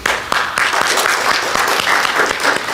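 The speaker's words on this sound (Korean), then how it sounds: "박수로 환영합니다" Audience at a church vision-trip orientation applauds in welcome, a steady wash of clapping filling the room for a few seconds with faint voices mixed in.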